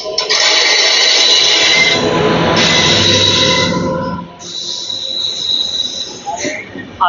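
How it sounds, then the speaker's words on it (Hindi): Anand Vihar–Jogbani Seemanchal Express train rolling on the rails, a loud, continuous metallic rumble with high wheel squeal through the first four seconds, easing into a softer clatter that continues to the end. "आनंद विहार जोगबनी सीमांचल एक्सप्रेस।"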